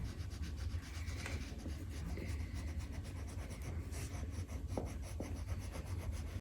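Oil pastels rub back and forth on paper while a simple turkey drawing is coloured in, producing continuous close scratchy strokes with no talking.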